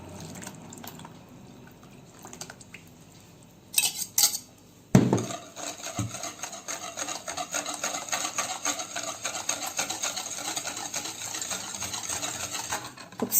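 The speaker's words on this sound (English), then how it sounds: "So I'm going to give a thorough mix" Red velvet cake batter with buttermilk being mixed in a bowl, a steady busy whirring and clinking of utensil against the bowl that grows louder after a sharp knock partway through.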